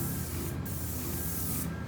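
A steady, continuous hiss of a sprayer laying the first coat of stain on a large log pavilion outdoors, loud and close, running unbroken with a brief dip partway through.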